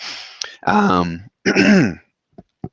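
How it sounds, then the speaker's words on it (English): Two harsh, voiced coughs close to the listener, followed by a few faint clicks and breaths. "Excuse me, I have to cough."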